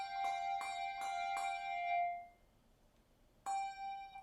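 Handbell rung four times in a steady rhythm, each clear tone sustaining and then fading, followed by one more strike after a short pause; close and bright, with no talking.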